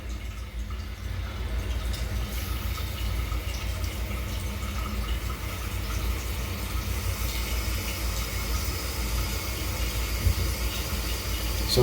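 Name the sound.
toilet tank filling with water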